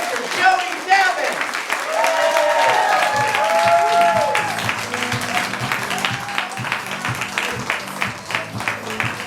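An audience at a stand-up comedy class show applauds a comedian, dense steady clapping that swells after a host speaks and continues under voices.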